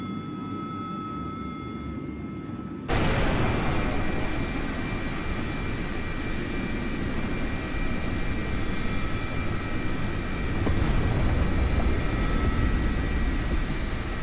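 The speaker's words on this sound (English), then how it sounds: "this film of planes being shot down on the same day" Military aircraft in a Falklands War attack, filmed through a frigate's sights in Falkland Sound, roar in with a sudden loud onset after a quieter hum, then a sustained broadband engine and jet rush that swells again near the end.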